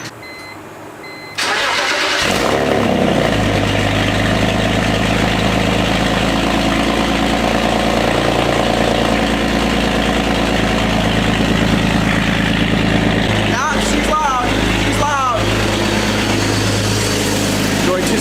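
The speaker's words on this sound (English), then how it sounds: "let it idle out a little bit before I get under it and listen" A BMW E46 with a catless straight-pipe exhaust starts up and settles into a loud, deep, steady idle close by, with a brief revving flutter near the end.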